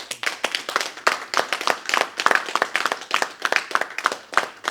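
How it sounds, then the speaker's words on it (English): Applause at an APC support forum for Tinubu's victory, made of distinct, fairly close hand claps in a quick, uneven rhythm from a modest group rather than a large roaring crowd. "So let us give a loud round of applause for Nigeria and Tinubu for"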